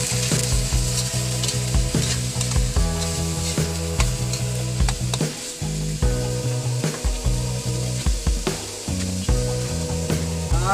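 Sliced green papaya fries in a pan with a steady, loud sizzle and occasional stirring knocks. A tonal hum runs underneath and no one speaks.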